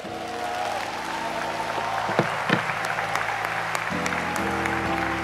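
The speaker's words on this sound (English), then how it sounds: "I think we can clap better." A church congregation claps throughout, with steady applause, a few sharp louder claps and sustained tones from music or voices in the background.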